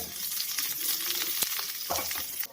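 Small sliced shallots frying in a pan for a curry: a soft, continuous sizzle with occasional scraping stirs and one sharp clink of a utensil, fairly quiet and close.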